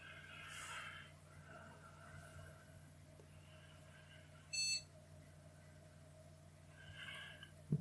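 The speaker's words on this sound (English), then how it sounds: "only when we get the beep that we finally get a display" A desktop PC with a freshly installed CPU and a RAID 0 NVMe card gives one short electronic POST beep at startup, clear over a steady fan hum.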